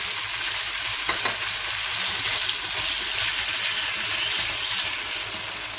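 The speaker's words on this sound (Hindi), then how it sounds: "अब हम इसमें पानी शामिल करेंगे।" Water pours into a hot pot of chickpea pulao, giving a loud, steady sizzling hiss that stays dense and even throughout with no voices.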